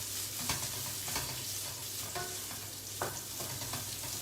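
Black raisins roast in a hot pan with a continuous close sizzle and frying crackle, while a spoon stirs them in repeated scraping strokes.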